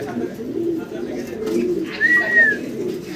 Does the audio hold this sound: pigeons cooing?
yes